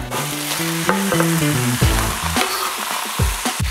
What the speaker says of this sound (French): On va rajouter notre volaille